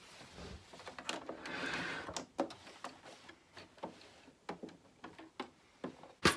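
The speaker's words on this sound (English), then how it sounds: "I'm just going to stitch across a row of straight stitch" Domestic sewing machine running a straight stitch across fabric, a quiet, close series of quick rhythmic mechanical ticks and clatters, no talk.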